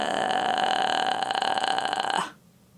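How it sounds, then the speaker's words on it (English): A soft, low creaky vocal fry sound is held steadily for about two seconds during a relaxing vocal cool-down exercise for singers, then stops abruptly into silence. "Start by letting out a soft, creaky sound like this."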